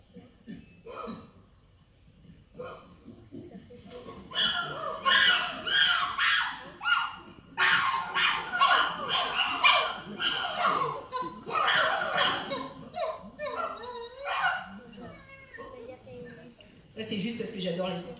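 Recorded chimpanzee calls, excited rising hoots and screams building into a loud, dense chorus of many animals that rises and falls for several seconds, with quieter stretches before and after.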